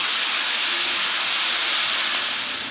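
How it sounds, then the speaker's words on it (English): Jerked turkey searing on a hot grill to get marks on both sides, a loud, continuous hissing sizzle that holds steady and fades slightly at the end, with no voices. "what I'm going to do now is just kind of grill these on both sides, give it some nice marks"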